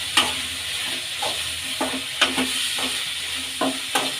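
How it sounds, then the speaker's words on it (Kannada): Green garlic and fresh pigeon peas fry in a pan as a gentle sizzle, punctuated by a series of sharp spatula scrapes and stirring clatters at irregular intervals. "ಈಗ ಹಸಿರು ಬೆಳ್ಳುಳ್ಳಿ ಸೇರಿಸ್ಕೊಳ್ಳೋಣ."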